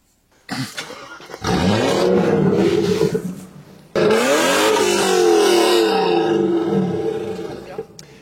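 The V8 of a 1994 BMW 7 Series E38 740i revs hard twice, each roar rising and falling in pitch, loud and close with a brief pause between bursts.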